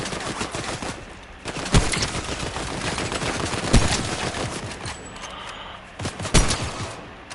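Gunfire in the Fortnite video game, rapid bursts of shots with several sharp, loud cracks standing out among continuous firing, and no one talking.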